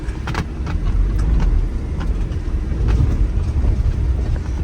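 A loud Chrysler 300 Hellcat engine roars up close with a heavy low rumble, broken by brief high squeals of tires spinning and losing traction, with no voices.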